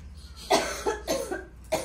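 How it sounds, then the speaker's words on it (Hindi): A person coughs in short bursts, four or five dry close coughs in a quick irregular series against a quiet room. "खांसी"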